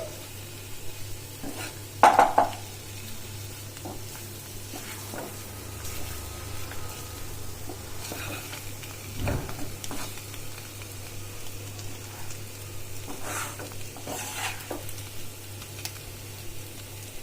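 Masala boiled eggs roasting in a pan at home give a steady low sizzle with frequent scrapes and clinks of a spoon against the pan, plus an occasional louder clatter.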